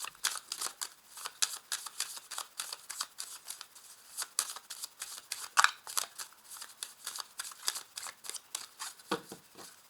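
A tarot deck is handled and split, producing a rapid series of crisp card flicks and riffling snaps, fairly close and dry, repeating unevenly throughout with no talking.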